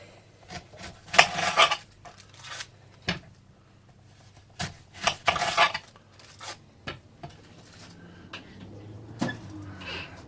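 A kitchen knife topping and tailing an onion on a board, with a series of sharp close chops and clacks separated by quiet gaps and some handling noise.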